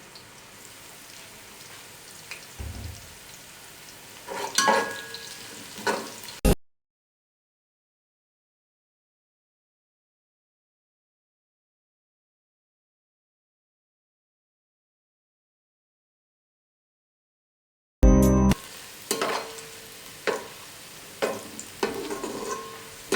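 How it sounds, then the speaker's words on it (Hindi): Onions frying in a pan until golden brown for Kabuli chana pulao, a soft sizzle with intermittent stirring scrapes, broken by a long silent gap before the sizzling and stirring resume. "प्याज़ों को गोल्डन ब्राउन करना है आपने। जितनी देर में प्याज फ्राई होते हैं"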